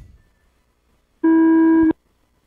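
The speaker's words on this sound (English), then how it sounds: "Going racing on the sound of the tone." Electronic start tone at an RC car race, a single loud sustained buzzing beep lasting about two-thirds of a second after a quiet lead-in.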